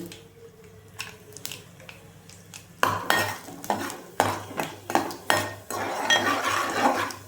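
Mustard-style tempering seeds sputter and fry in a pan for a village-style okra fry. A spoon scrapes and clinks against the metal in repeated strokes, and the sizzling grows louder after the first few seconds. No one speaks.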